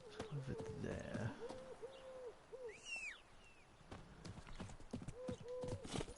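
Roach the horse in The Witcher 3 gallops in steady rhythmic hoofbeats, close and clear, with a brief whinny and game ambience, while someone talks over it.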